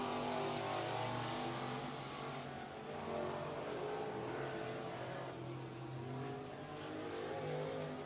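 Stock race cars run at I-75 Raceway in Niota, Tennessee, a continuous engine roar that swells and eases as the field circles the speedway, heard from a distance with no talk.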